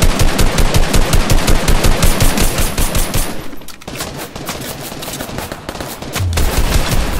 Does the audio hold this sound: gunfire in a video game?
yes